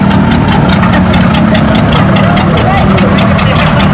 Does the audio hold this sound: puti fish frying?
no